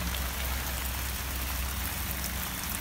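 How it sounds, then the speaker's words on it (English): Gentle rain falling steadily outdoors at a homestead, a soft continuous patter of drops on surfaces, even and unbroken throughout with no voices. "I like a nice gentle rain."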